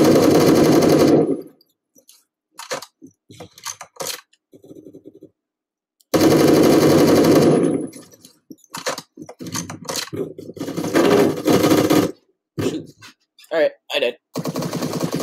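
Automatic gunfire from weapons in the Roblox game Phantom Forces comes in loud sustained bursts and rapid rattling volleys, separated by short pauses and scattered single shots.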